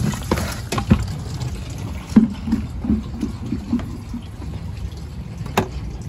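Clothes being washed by hand at home, with splashing, sloshing water and occasional knocks and thumps as fabric is handled, fairly close and continuous.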